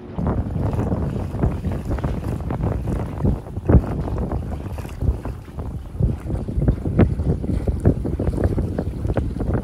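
Strong wind buffets the microphone in loud, continuous gusts while boating in Giethoorn, Netherlands, with rumbling thumps and a faint wash of water underneath.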